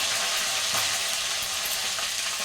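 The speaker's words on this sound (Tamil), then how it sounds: "வதக்கும் போது கொஞ்சம் ஜாக்கிரதையாக வதக்கணும்." Green chilies, ginger and garlic sauté in a pan with a dense, continuous sizzle and hiss, close and fairly loud, with faint stirring scrapes and no talking.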